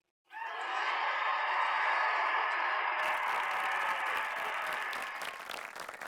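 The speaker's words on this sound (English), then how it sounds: "the crowd went wild" Grammys audience roaring with cheers, screams and applause, rising fast to a loud sustained wall of sound that stays full before easing slightly toward the end.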